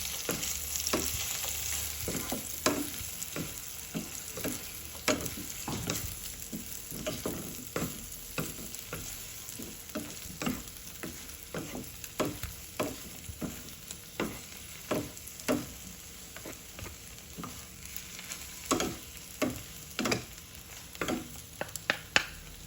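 Carrot and eggs frying in a pan over a moderate flame, with a steady soft sizzle under repeated scraping stirs of the spatula, close and fairly quiet, no voices.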